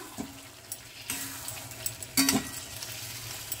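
Pointed gourd (potol) fries in a pan over a low flame, giving a soft, steady sizzle with a few brief stirring scrapes and clatters, fairly quiet and close, with no voices.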